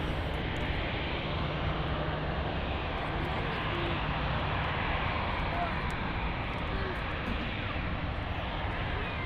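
Airbus A340 airliner banking near Munich Airport, a broad continuous jet roar holding steady and fairly loud the whole time.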